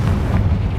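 A Confringo blasting spell in Hogwarts Legacy goes off as a single brief, loud, deep boom with a rumbling low burst.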